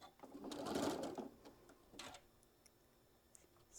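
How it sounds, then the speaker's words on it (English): A sewing machine stitches fabric in a short, quiet burst of rapid mechanical whirring, followed by a second briefer run and a few faint ticks. "go ahead and stitch this down"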